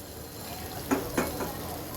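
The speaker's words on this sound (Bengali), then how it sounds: "এখন আমি এর মধ্যে দিয়ে দেব সয়াবিন এই আমি দিয়ে দিলাম ভেজে রাখা সয়াবিনগুলো" Fried soybean chunks dropped into a sizzling, well-cooked spice masala in a pan, a steady soft frying hiss with two or three brief louder bursts as the chunks land.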